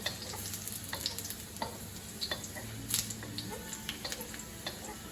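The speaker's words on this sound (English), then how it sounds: "You just want to partially cook your mushrooms because they are going to go in the oven." Mushrooms frying in garlic oil over low heat, a soft steady sizzle with light scattered ticks and pops of stirring, faint and close.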